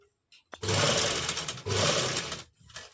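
Sewing machine stitching a shirt seam with a steady margin, running in two loud bursts of continuous whirring separated by a brief pause, then slowing to a softer stop.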